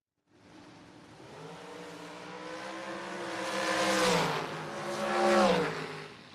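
Drag race cars launch down the strip at a memorial drag race: a loud engine roar builds and rises in pitch as the cars accelerate away, with a second surge near the end.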